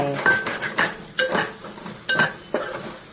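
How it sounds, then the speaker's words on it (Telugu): A metal spatula scrapes and clinks against a pan while prawn fry is stirred over high heat, with sharp strikes repeating about every half second over a faint sizzle. "ఈసారి హైలో పెట్టుకుని బాగా వేపేసుకుంటే సరిపోద్దండి."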